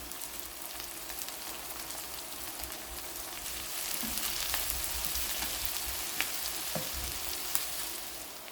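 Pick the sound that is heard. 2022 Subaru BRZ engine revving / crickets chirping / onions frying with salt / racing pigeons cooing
onions frying with salt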